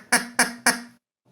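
A duck quacks three times in a quick, loud, nasal series up close, then falls silent apart from a faint low sound.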